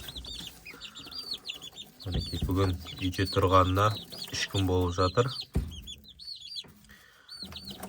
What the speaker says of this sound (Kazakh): Біздің 2 күн бұрын алып келген балапандарымыз.